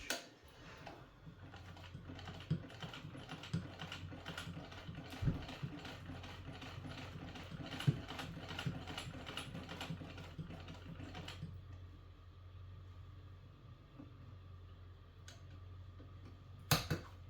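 A Florence rotary sewing machine sewing a longer stitch gives a fast, even mechanical ticking and clatter that runs steadily, then turns quieter and thinner partway through, with a few sharp clicks near the end.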